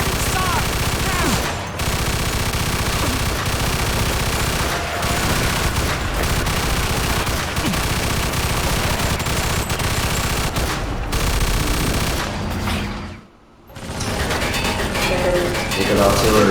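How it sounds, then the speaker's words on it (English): A Mafia 2 battle near a church roars with sustained machine-gun fire and heavy artillery booms, loud and unbroken apart from one brief lull, with shouting voices mixed into the din. "Oh shit, they got artillery!"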